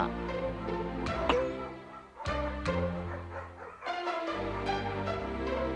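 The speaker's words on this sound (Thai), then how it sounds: "บรรดาลูกสุนัขในกรงต่างก็แตกตื่น เมื่อเจอกับลูกค้าแปลกหน้า" Several puppies in cages yapping and barking over one another in short, overlapping bursts, fairly close and continuous with brief gaps.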